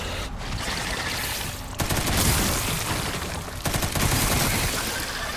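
Gunfire in the video game Resident Evil Requiem: two loud, sharp bursts of shots, each with a short ringing tail, against a constant background din.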